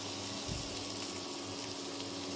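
Hot boiled water pours into a pan of salted, peppered rice, making a steady, close gushing wash with no speech.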